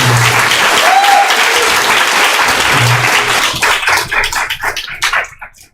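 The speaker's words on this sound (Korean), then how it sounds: "큰 박수 다시 한번 환영하겠습니다." A church congregation gives a loud round of applause to welcome an education evangelist, with dense, steady clapping that holds for several seconds before breaking into separate claps and dying away.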